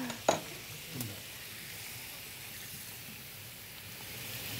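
Coconut milk poured into a hot pan of curry with green chilies, a soft steady sizzle and hiss after a brief clink near the start, close and quiet with no talking.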